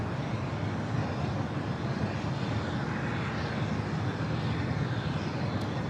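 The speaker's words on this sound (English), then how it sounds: "The A380 Super should have a north side takeoff." An Asiana Airlines Airbus A380 taking off from LAX, its engines making a loud, steady, broadband roar that holds throughout without any voices.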